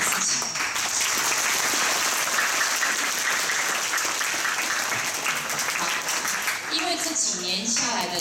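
A school audience claps loudly and continuously for the supervising teachers at an eighth-grade project presentation event, a dense, sustained applause that fills the hall from start to finish.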